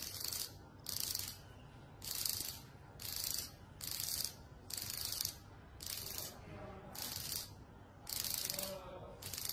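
A xoc dia bowl and dish holding game pieces is shaken in about ten quick rhythmic bursts, each a bright rattling clatter separated by short pauses, close and fairly loud.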